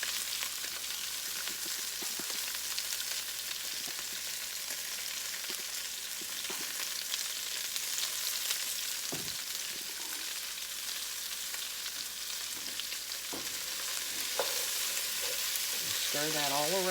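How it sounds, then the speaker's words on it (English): Bacon frying in a pan for a meatloaf and green beans meal gives a steady, close sizzle throughout, with occasional soft scrapes and knocks as it is stirred around. "Stir that all around with the bacon."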